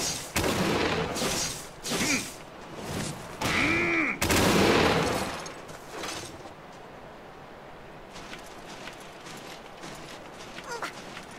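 A gunlance combo fires off all its shells in Monster Hunter 3 Ultimate on Wii U, a quick series of loud blasts and metallic clanks over the first few seconds, then fading to quieter ambient game sound.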